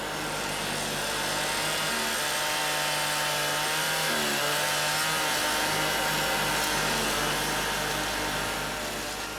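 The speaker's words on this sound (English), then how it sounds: "The noise disturbing their peace is construction work" Steady, loud mechanical droning and grinding of drilling and digging machinery runs throughout without pause, heavy construction equipment working close by to build a new house at Monkey World.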